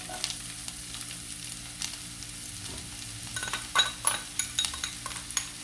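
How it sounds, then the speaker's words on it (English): Onions sautéing in a pan, reused after cooking ripe plantains, with a soft steady sizzle followed by several clinking utensil scrapes and stirring taps toward the end, close and with no speech. "let's saute our onions."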